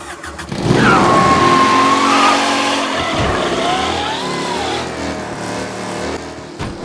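A car in Mafia Definitive Edition revs hard and squeals its tires in a loud, close skid, the engine note rising and falling as it slides and accelerates, with no voices.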